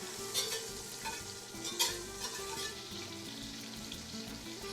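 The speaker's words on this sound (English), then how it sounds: "Help it, stir it around." Food stirred in a pan over medium heat for Mexican-style mac and cheese, a faint low sizzle with a few soft spoon scrapes and taps, quiet and close, no talking.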